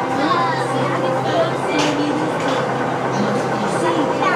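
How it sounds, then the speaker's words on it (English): Amusement park train at Paultons Park rolling past, a steady rumbling clatter with faint squeals and crowd chatter and children's voices in the background, loud and continuous throughout. "Train going by."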